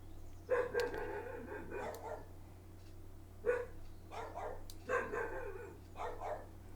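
Dogs bark indoors in a room, several sharp barks in uneven bursts with short pauses between them. They sound fairly close and there is no talking over them.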